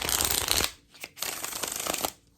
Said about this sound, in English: Most people play with their Magic the Gathering cards and shuffle it like this.